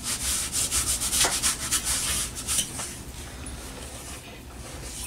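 Sandpaper rubs along the edge of a balsa wing for a Carl Goldberg Eagle 2 model airplane in close, loud rasping strokes, quick and uneven at first, then easing into softer scraping.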